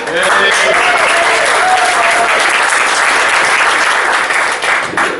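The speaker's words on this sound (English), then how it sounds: "that's one round of applause" Steady, dense audience applause fills the hall for a talk by Mark Devlin on the music industry, holding loud and even throughout before easing slightly at the end.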